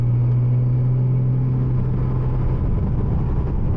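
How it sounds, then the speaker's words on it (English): A 700 hp Porsche Cayman 987 Turbo cruises in sixth gear at about 2000 rpm, a steady low engine drone and road rumble heard from inside the car with a light throttle, no talking. "We're in top gear, and still, even at 2000 RPMs, throttle in a little bit"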